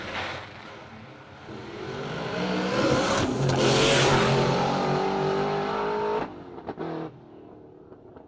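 A no-prep drag racing truck, recently back together after transmission work, revs its engine hard and close, rising in pitch and loudness to a sustained high roar, then dropping off abruptly to a lower idle with a few short blips.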